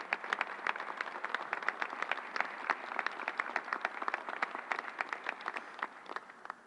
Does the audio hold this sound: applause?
yes